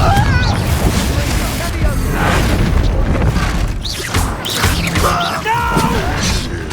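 Confringo fire spell explosions in Hogwarts Legacy on PS5: loud, booming blasts and crashes repeating over several seconds amid dense game noise, with voices shouting over the action.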